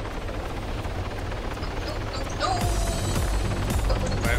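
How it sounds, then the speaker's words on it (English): A Littlebird helicopter in the ARMA 3 video game spins up with a rising whine and rhythmic rotor chop, mechanical clicking throughout, growing louder midway, close to the listener. "I haven't flown a helicopter in so long, Ryan."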